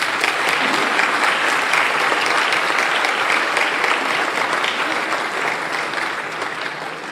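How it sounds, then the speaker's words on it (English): Sustained, dense applause from a large audience at a peace symposium, steady and loud throughout before tapering slightly at the end, with no talk over it. "if you wish to show your appreciation by clapping"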